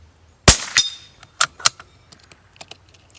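Savage MkII .22 LR rifle firing CCI 40 grain standard velocity rounds, one sharp crack followed by a second report, then several lighter metallic clicks and clatters from the action and empty cases.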